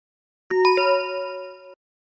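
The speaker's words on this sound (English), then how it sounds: "The dog's bell." A small bell on a dog rings out clearly, two or three quick bright strikes whose tone lingers for about a second before stopping abruptly.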